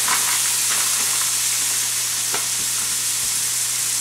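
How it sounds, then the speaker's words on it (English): Sugar snap peas and shrimp fry together in a pan, making a continuous close sizzle with occasional soft scraping clicks as they are stirred. "And our sugar snap peas."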